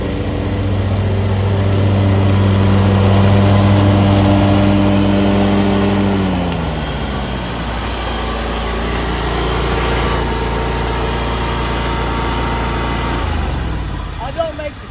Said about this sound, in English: mowing on my yard